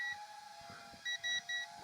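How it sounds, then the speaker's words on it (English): A small FPV drone-plane sounds a low-battery alarm, with several short, fairly faint electronic beeps in quick succession near the end over a steady background hum. "And this is beeping also."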